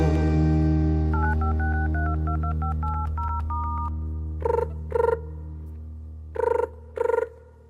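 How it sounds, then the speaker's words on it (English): A telephone is dialed over a steady hum: a run of short musical dialing tones, then four separate louder tone bursts in two pairs, close and clear. "Then he dialed the telephone and softly he spoke."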